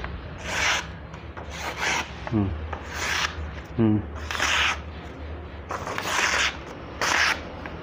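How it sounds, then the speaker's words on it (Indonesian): Repeated rasping strokes of a golok machete blade being stropped, several rubbing passes in an uneven rhythm, fairly close, with a couple of brief voiced sounds in between. "Saya perlu menstroping ini biar halus."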